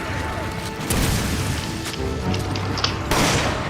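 Grenade blast in Resident Evil 5, a heavy low boom with crashing debris that thuds in partway through, followed by further impacts and a second burst near the end amid ongoing game noise.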